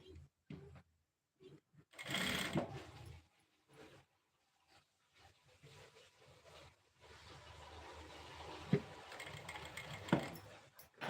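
A sewing machine runs in intermittent bursts while stitching pleats into a ruffle sleeve, the motor whirring in short runs with pauses between, fairly close and moderately loud.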